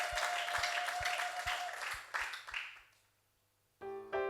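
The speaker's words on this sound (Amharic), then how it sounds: "ጭብጨባ እልልታ ለአምላካችሁ።" A church congregation breaks into applause and rhythmic clapping that gradually fades, followed by a loud, sharp, sustained vocal cry near the end.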